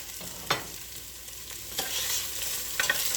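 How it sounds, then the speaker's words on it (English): Black olives are stirred into a hot pan of pasta with spicy Italian sausage and cauliflower, giving a steady sizzle with a few scraping stirs and clatters, close and loud. "Now, I'm going to add my black olives."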